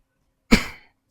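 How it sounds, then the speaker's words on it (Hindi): A single sharp cough from a lecturer in the middle of a biology lesson on animal tissue, sudden and close, fading within about a third of a second and heard on its own in otherwise quiet surroundings. "खांसी आ रही है यार, पता नहीं क्यों"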